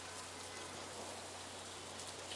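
Steady rain ambience layered into an indie pop song mix, a faint, even hiss of falling drops with no other sounds.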